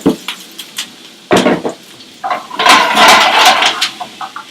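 Chopped onion, garlic and thyme drop into a hot pan with a loud clatter and scrape of utensils, then a broad steady sizzle builds and holds, broken by a few clinks near the end.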